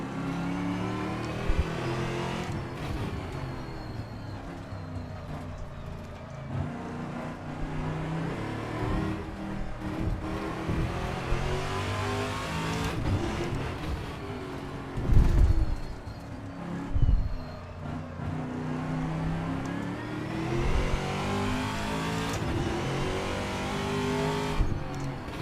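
A Dallara IR-18 racing car engine in a video game drones continuously, revving up and down through gear changes with occasional sharper roars, steady and close throughout.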